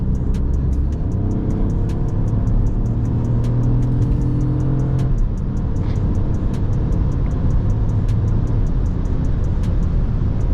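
Mini Countryman SUV on the move, heard from inside as a continuous loud engine and road drone with the engine note rising under acceleration, steady throughout with faint periodic ticking.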